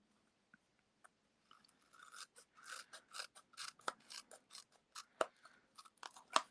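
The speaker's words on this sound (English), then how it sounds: "So I'm just going to grab my scissors" Scissors snip through a thin adhesive sheet along a score line in a quick series of close, crisp cuts, starting sparse and speeding into a rapid rhythmic chopping.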